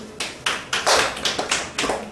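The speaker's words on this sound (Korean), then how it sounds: "박수." Students in a classroom clap together in a short burst of about eight sharp, evenly spaced claps, loud and close, with no talking over them.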